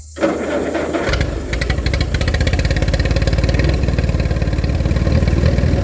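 A cold tractor engine catches and runs with its choke still on, a loud steady rumbling idle with a fast, even clatter that continues after a short starting burst.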